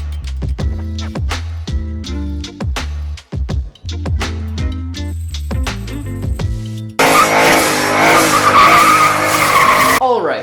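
Turbocharged Fox Body Mustang, the third-generation Ford, driving hard with loud, repeated tire skids and engine revs, swelling into a dense roar of screeching tires and engine noise near the end, with some voices mixed in.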